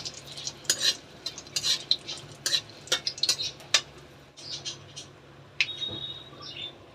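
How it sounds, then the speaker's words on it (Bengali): Dry spices such as cinnamon, cardamom, cloves and peppercorns, along with dried chillies, rattle and clink in a pan as they fry, giving quick irregular metallic taps and scrapes over a faint sizzle. "তো আমি এখন এ কটা উপকরণ এই যে ভেজে নিচ্ছি ভালো করে"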